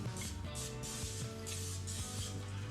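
Non-stick cooking spray hissing from a can into small loaf pans, several short bursts of spraying in close succession over a low background hum.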